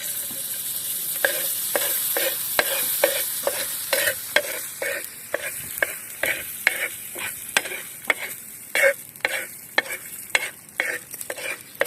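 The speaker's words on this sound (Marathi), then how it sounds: "तर आता ते तव्यावरती टाकायचं आहे" Corn kernels coated in oil fry on a griddle for popcorn, a steady low sizzle broken by repeated sharp scraping strokes of a spatula stirring them in a quick, uneven rhythm.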